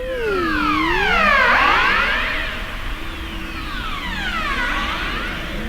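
A Ross seal call plays back as long sweeping, siren-like swoops rising and falling in pitch, loud and steady, sounding much like a fire truck siren.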